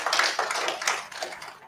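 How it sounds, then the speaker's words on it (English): Audience applause at a national HIV/STI research dialogue event in Ghana, a short burst of many hands clapping close by, fading toward the end. "let's put our hands together for you."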